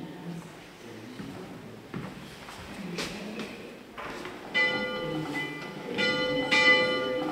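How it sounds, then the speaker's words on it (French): An old chapel bell cast in 1655 rings from a small bell tower in the Guebwiller valley, Alsace, with several moderately distant metallic strikes and long ringing tones that build toward the end. "Ce campanile contient la plus ancienne cloche de la vallée de Guebwiller"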